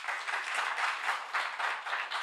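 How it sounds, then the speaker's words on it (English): Audience applause in a live debate hall about the October 7 Hamas attack: steady, dense clapping from many hands sustained throughout, moderately loud with no clear speech over it. "You might want to wait till I'm done before you clap."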